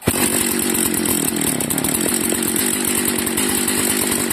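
Small motorized bicycle engine running, a loud buzzing two-stroke putter with rapid even firing that starts abruptly and holds steady close by.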